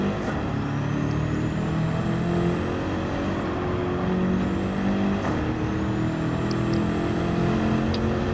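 A race car engine in Gran Turismo 7 drones steadily as power builds, its pitch shifting slightly while high whining tones sweep upward above it. The sound is constant and fairly loud with no talking.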